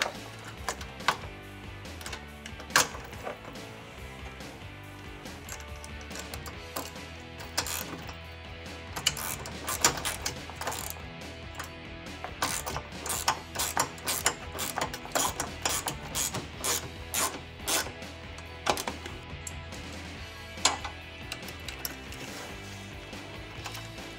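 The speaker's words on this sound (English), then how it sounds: "ratchet wrench would definitely be the easier of the two on this" Ratchet wrench tightening bolts on a Ford Ranger side step bar, rapid clicking bursts of the ratchet mechanism repeated in short runs with brief pauses, close and clear, no talking.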